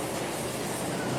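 A local train rumbles across a railway bridge on a sharp curve near Cimeta on the Purwakarta line, a steady, dense roar heard from nearby without a break.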